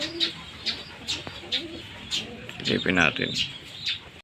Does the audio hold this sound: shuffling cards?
no